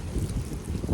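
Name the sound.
gust of wind outdoors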